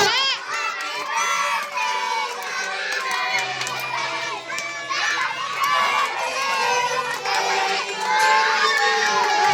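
Group of children at a birthday party yelling in unison, loud and sustained for several seconds, mixed with cheering and scattered excited chatter close by.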